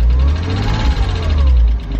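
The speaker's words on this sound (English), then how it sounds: "a few small baby revs" A Porsche Boxster engine, bought cheap at auction with mold problems, gives a few light revs: a close, deep, throaty rumble that swells and eases twice in quick succession.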